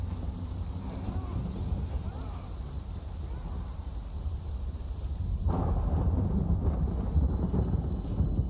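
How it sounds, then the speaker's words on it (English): Heavy rain with low rumbling thunder in the video game Death Stranding, a steady dense wash that swells louder and fuller about halfway through, with no talking. "Yay, it's raining."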